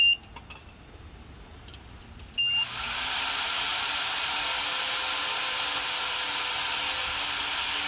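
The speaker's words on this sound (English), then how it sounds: "Oh, vacuum time." A vacuum cleaner starts up after a car wash to clean out a car, a brief clatter followed by a steady, loud whooshing drone that carries on without a break and without speech.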